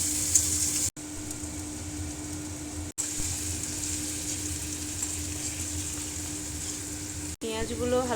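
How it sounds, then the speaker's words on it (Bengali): Onions frying lightly in oil, with black cumin seeds already added, for a Bengali rui posto fish dish; a steady close sizzle runs throughout, broken by short gaps, with a brief voice near the end. "পেঁয়াজগুলো হালকা করে ভাজা হয়ে গেছে,"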